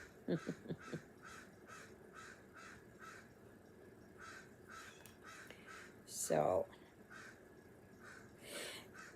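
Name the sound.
crows cawing while being fed old bread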